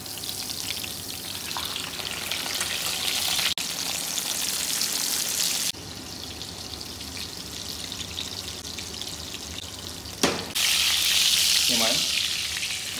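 Schnitzel sizzles in hot oil in a frying pan, a steady crackling hiss with a brief clatter and a louder burst of spitting near the end.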